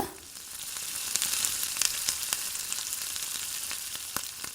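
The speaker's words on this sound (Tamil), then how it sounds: "இப்போது நம்ம கட் பண்ணி எடுத்து வச்சுருக்கிற வெங்காயத்தை சேர்த்துடலாம் சேர்த்துட்டு இதை நல்லா கலந்து விட்டுக்கோங்க" Chopped onions fry in hot oil for kothu parotta, a bright steady sizzle with crackles and pops spiking now and then, heard up close and alone with no talk.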